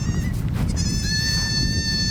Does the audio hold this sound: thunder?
no